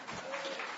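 An audience at a flat earth conference breaks into a brief, steady burst of clapping, a dense wash of many hands heard from a distance.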